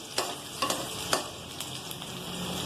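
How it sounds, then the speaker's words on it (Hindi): Onions fry in a pan toward golden brown, a steady sizzling hiss broken by several sharp stirring scrapes and clicks from a utensil, heard up close without any talking. "अब प्याज को हम गोल्डन ब्राउन होने के लिए जो है रख देंगे"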